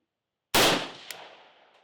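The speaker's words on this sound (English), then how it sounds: "then we'll go ahead and shoot into some gel and see what this ammunition does out of this rifle" A single loud, sharp rifle shot fires 5.45 59gr Red Army Standard ammunition into ballistic gel outdoors, followed by a decaying echo and a faint secondary crack.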